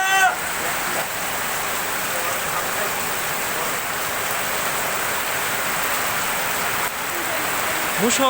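Heavy rain pours down in a steady, loud, dense roar on an outdoor location, with a brief voice near the end.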